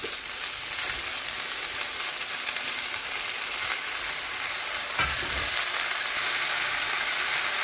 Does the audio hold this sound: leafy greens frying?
yes